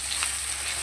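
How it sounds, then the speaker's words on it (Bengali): Ginger-garlic paste and chopped green chillies fry in hot oil in a pan, giving off a steady, close, continuous sizzle with no voices. "আদা রসুন কাঁচা লঙ্কা একসঙ্গে ভালো করে ভেজে নেব।"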